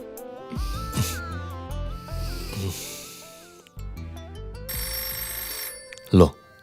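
A melodic mobile phone ringtone plays loudly in a Gujarati film drama scene, its stepped electronic tune repeating in phrases with brief pauses, ending in a sharp louder burst.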